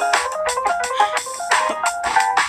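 A phone rings while a call is being placed, giving a repeating electronic ringtone melody of bright bursting tones in an even pattern, clear and close, with no voices over it.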